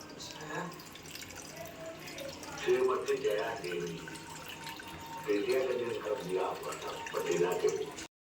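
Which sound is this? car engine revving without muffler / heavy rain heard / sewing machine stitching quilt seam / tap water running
tap water running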